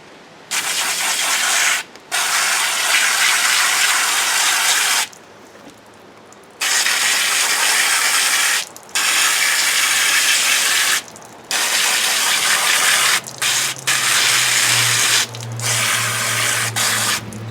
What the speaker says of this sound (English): Hold it down with my hand and I spray the tips hard so that I can get the first initial wash out of there.